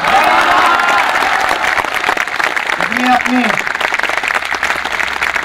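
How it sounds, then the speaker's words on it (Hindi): Audience applause at a college poetry event in Kanpur, a dense, steady wash of clapping that fills the whole stretch, with a brief tonal voice or whistle rising in the middle of the crowd noise. "अगर को ठीक लगे तो मेरे गुरु के चरणों तक अपनी ताली पहुंचाना।"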